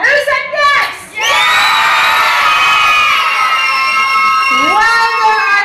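A crowd of children at a group competition in Crete cheers and shouts loudly and close, a brief yell followed by a long sustained shrieking cheer, with another rising yell at the end.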